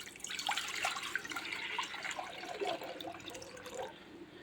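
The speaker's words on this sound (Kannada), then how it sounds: "ಇವಾಗ ಕುಕ್ಕರ್ಗೆ ನೀರು ಹಾಕೊತಾ ಇದ್ದೀನಿ." Water is poured into a pressure cooker for lentil saaru. It makes a soft, steady splashing trickle, quiet and close, for about four seconds.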